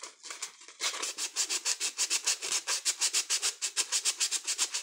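Paper on a handmade altered book rubbed with 220-grit sandpaper: quick, evenly spaced back-and-forth scratchy strokes, close and fairly quiet, with no voices.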